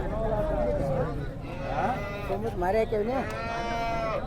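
Cows at the Chintamani cattle market moo in long, wavering calls, one after another, close by, while people talk over the lowing.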